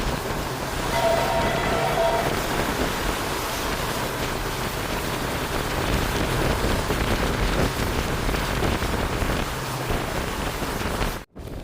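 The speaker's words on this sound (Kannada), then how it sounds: "Hubballi KSR Bengaluru super fast express ಜಿಂಗ್ ಆಗ್ತಿದೆ" A Hubballi–KSR Bengaluru Superfast Express train rushes past, a steady, loud wall of broadband rumble and rushing noise that holds for over ten seconds before cutting off abruptly near the end.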